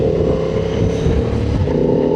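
A 2025 Honda Transalp 750 motorcycle engine runs up close with a steady, loud drone and a slight shift in pitch partway through, with no voices.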